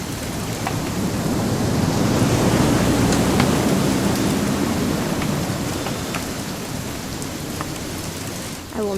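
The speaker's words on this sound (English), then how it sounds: "It's gonna rain the whole weekend" Steady rain falls in the video game What Remains of Edith Finch, a continuous hiss of drops on surfaces with a faint low rumble beneath, loud and close throughout with no talking.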